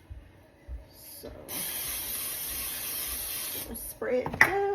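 An aerosol spray can hisses in one steady burst lasting a few seconds in a home kitchen during cooking, preceded and followed by faint clatter and brief voices.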